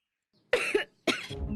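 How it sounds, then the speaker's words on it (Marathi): A woman coughs twice in a TV drama scene, two sharp, close bursts separated by a brief silence, the second trailing into a rougher rasp. "अशीच खोकत बस आता दिवसभर"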